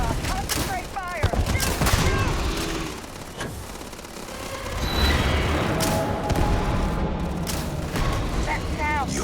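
Heavy gunfire and booming blasts in Starfield combat, dense overlapping volleys with loud impacts, while characters shout and speak over the fight.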